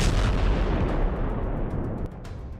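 MK-84 bunker buster bombs, 2000-pound (900 kg) bombs, going off in a dense, roaring wall of blast noise that rumbles heavily and slowly fades with a few crackles near the end, loud and distant-sounding with no voices.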